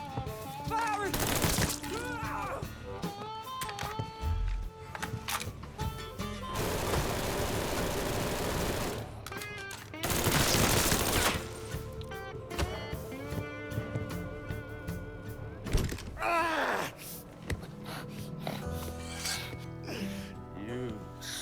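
Gunfire in a Mafia III shootout comes in bursts of loud, harsh rattling volleys that break off and resume, with shouted voices between them.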